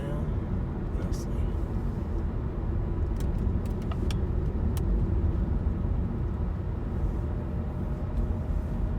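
A car driving south along a valley road, with a steady, close engine and road rumble running throughout and a few light jangles and rattles on top.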